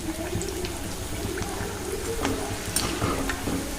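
Bhaji fritters frying in hot oil, a steady close crackling sizzle with occasional bubbling pops and light scraping from stirring, continuous and fairly quiet with no voices.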